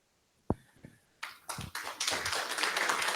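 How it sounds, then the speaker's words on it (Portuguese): An audience breaks into applause after an architecture lecture, beginning with a few scattered claps and then swelling into steady, dense clapping that fills the room. "Estamos aqui te aplaudindo muito, Bruno."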